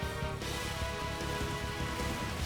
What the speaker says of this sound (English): why are they gonna add this rain effect?